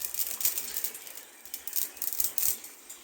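Dry noodles are snapped and crumbled into a pot of boiling water, giving close, crisp crackling and rattling bursts in quick irregular clusters, with no voices.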